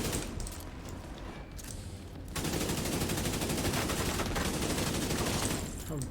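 Enemies in The Division 2 open up with gunfire, a dense sustained rattle of automatic shots that starts after a quieter opening and runs loud to the end of the clip.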